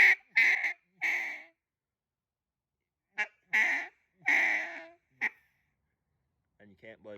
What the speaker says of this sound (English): I might do a few more quacks with my acrylic real quick